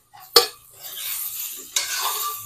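Jolphai (olive) sweet pickle stirred in a pan, opening with a sharp clink of the utensil against the pan, then soft scraping, another clink, and more scraping.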